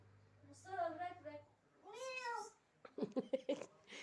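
A cat meows twice in long, wavering cries, then a person speaks in short, quick bursts close by.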